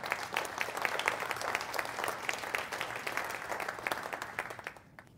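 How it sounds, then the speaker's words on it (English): An audience gives a round of applause for a co-author seated at the back of a corporate speaking event, a dense, steady patter of many hands clapping at a moderate distance, tapering off at the end. "can we give a round of applause to Katie Roberto back there?"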